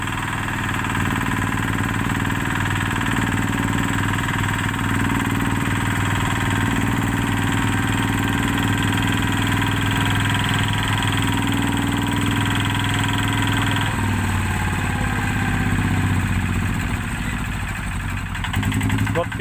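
A tractor engine idles steadily, a low continuous chugging drone with a constant vibrating hum and no break throughout.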